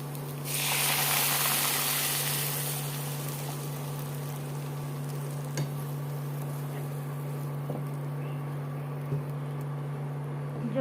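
Water poured into a pan of sautéed drumstick curry hisses and sizzles loudly at first, then settles into a steady simmering hiss with a low hum and a few faint clicks, with no talking.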